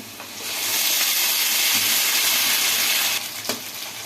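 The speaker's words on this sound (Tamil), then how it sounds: "இது நல்லா வதங்கி பச்சை வாசனை போகட்டும் தக்காளி நல்லா வதங்கிட்டு நல்லா வதங்கட்டும்" Onions and tomato paste sauté in a pan for a spicy kofta kuzhambu, giving a steady loud sizzle with occasional stirring scrapes, close and uninterrupted, easing slightly near the end.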